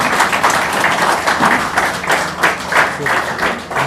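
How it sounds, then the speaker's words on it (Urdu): Audience applause at a Pakistan paramedical staff association event as a guest is welcomed onto the stage, sustained dense clapping throughout at steady loudness. "حاجی فضل ربی صاحب سے گزارش کرتا ہوں کہ وہ آپ کی بھرپور تالیوں میں سٹیج پہ تشریف لائے۔"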